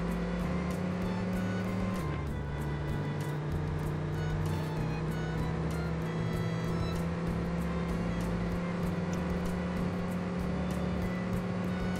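Austin Healey 3000 MkII engine in the TORCS racing game, a loud sustained drone near top speed, with a brief pitch drop around two seconds before settling into a steady high-speed hum.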